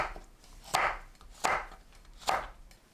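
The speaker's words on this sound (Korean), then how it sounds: "청양고추, 홍고추를 1cm 길이로 썰어주세요." A knife cuts Cheongyang and red chili peppers on a board in three evenly spaced, crisp, close chops.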